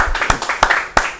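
A few people clapping briefly, several sharp claps in an uneven rhythm, close and fairly loud.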